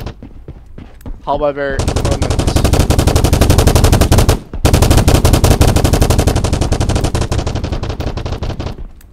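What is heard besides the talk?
video game gunfire, machine gun firing closer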